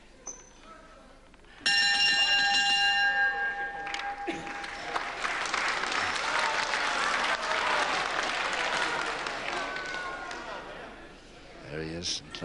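Round bell ringing at a televised professional wrestling bout, a sharp metallic clang with a long ringing decay, followed by crowd applause and cheering that swells and fades, with a commentator talking.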